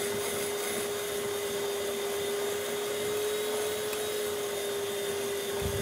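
An electric mixer whips cream at its highest speed, giving a loud, steady high-pitched motor whine that holds unbroken throughout with no talk.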